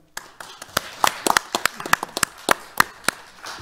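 Applause from a seminar audience after a talk on carbon neutrality and diesel exhaust emission reduction, sharp scattered claps from a small group, close and uneven, with no voices.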